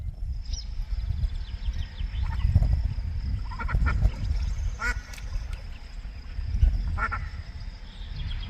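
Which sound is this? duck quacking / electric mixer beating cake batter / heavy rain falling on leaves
duck quacking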